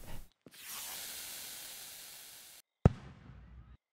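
Firework in the game Fireworks Mania: a long sizzling hiss as it launches, then a single sharp, deep thump of a burst followed by a short fading crackle, heard alone.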